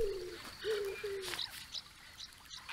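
In the island game Alba: A Wildlife Adventure, a bird gives three drawn-out cooing notes, followed by scattered faint chirps over soft ambient background.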